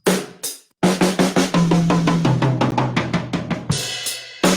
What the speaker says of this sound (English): The second time I'm going to replace that 4th note of each group